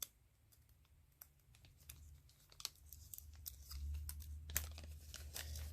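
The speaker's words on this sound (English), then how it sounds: "Go ahead and peel off the back." Backing is peeled off an adhesive sticker during a painted tumbler project: close, crackly tearing and crinkling with scattered sharp clicks that builds slightly louder toward the end, with no speech.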